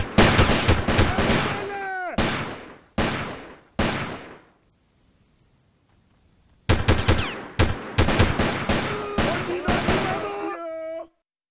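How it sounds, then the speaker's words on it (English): Bursts of automatic gunfire and single shots in the video game Delta Force 2, loud and close, several long rattling volleys broken by a quiet pause before more rapid fire resumes. "That guy got shot twice"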